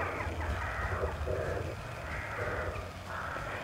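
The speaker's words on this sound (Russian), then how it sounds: "Вороны только раскаркались." Crows cawing outdoors on a calm day, harsh repeated calls in a loose rhythm at moderate distance over a steady low rumble of background ambience.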